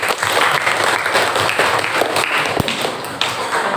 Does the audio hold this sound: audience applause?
yes